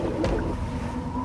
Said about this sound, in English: That's the sound of flowing water.